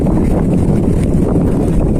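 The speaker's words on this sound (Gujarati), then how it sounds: "પવનનો અવાજ આવતો હોય છે કારણ કે પવન થોડોક નીકળ્યો છે" Wind buffets the microphone in a constant low rumble, loud and blustery, with no clear voices over it.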